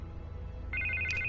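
Telephone ringing in Batman: The Telltale Series, an electronic ring that starts partway through, fairly faint, over low game ambience and with no talk.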